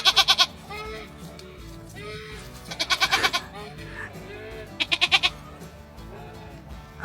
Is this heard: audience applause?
no